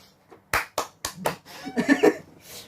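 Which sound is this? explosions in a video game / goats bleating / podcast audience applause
podcast audience applause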